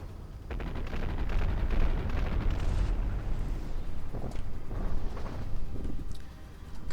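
A battleship exploding under fire in a naval combat game, a continuous loud rumble of blasts and gunfire layered together, with sharper bursts rising throughout.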